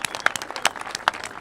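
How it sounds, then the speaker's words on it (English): Applause from an audience for job training program graduates, a short burst of scattered hand claps, fairly close and irregular, lasting just over a second. "they deserve a round of applause"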